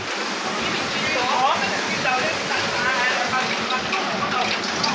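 Rain falls steadily outside a Hong Kong MTR station exit, a continuous hiss of water with faint background murmur and a voice briefly speaking.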